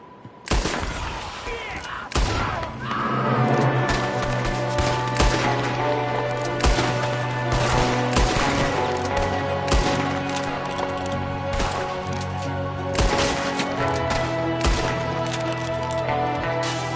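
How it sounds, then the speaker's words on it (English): A Red Dead Redemption 2 shootout with an enemy firing from a window: dense, loud gunshots crack repeatedly and irregularly throughout, layered over a sustained musical drone. "There's another one shooting from the window."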